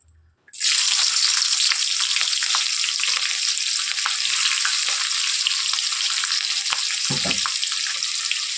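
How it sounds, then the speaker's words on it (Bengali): Bay leaves, cardamom, green chilli and onion hit hot oil with an abrupt, loud, steady sizzle that holds for several seconds, with a brief utensil knock near the end. "এবার আমি সবগুলো উপকরণকে ভালো করে ভেজে নেব"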